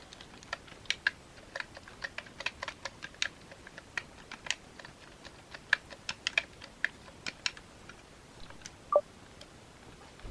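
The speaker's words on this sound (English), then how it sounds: "I've already got to put my name in through the virtual keyboard" Virtual keyboard name entry in Pit Stop on the Commodore 64: a run of short, crisp clicks and ticks at an uneven pace, fairly faint, with no talk over them.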